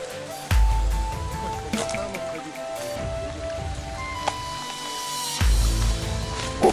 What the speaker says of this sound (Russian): Так, здесь ручей.